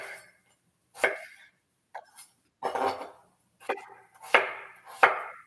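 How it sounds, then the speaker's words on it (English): Knife chopping potatoes into small dice on a cutting board while making fish stew, several separate close, crisp chops in an uneven rhythm with brief pauses between them. "let me cut up my potatoes"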